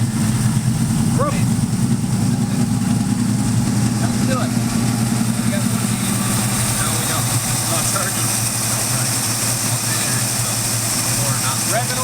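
A Ford Mustang engine idles with a steady low rumble while people talk nearby over it.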